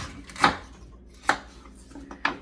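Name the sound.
knife cutting the heel off celery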